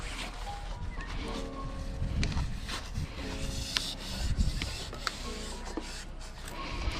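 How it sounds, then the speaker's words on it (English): Knife blade scraping old urethane from the windshield frame of a 2012-2017 Toyota Camry, giving a steady close rasping and rubbing with short sharper scrapes throughout, no talk. "So then we're gonna keep scraping."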